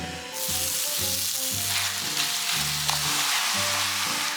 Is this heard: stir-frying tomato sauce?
yes